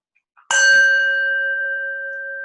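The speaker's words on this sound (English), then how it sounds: "I'm just going to ring a bell real quick for an example" A single bell struck once, a bright clang that rings on with a clear sustained tone, slowly fading and still sounding at the end, with no talk.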